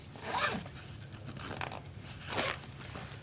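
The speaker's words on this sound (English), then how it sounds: "zip it up." A zipper is pulled closed on the PM55B portable sound system's carry case, giving two or three quick, scratchy zipping strokes close by with no talking.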